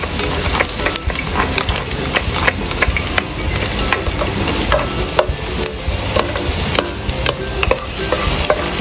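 Garlic frying in a pan beside cooked ginger for a lemongrass chicken soup, a steady close sizzle with frequent stirring clicks and scrapes throughout, no talking.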